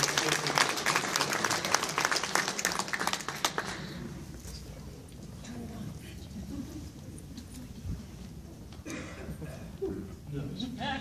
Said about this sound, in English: give yourselves a round of applause just for getting here today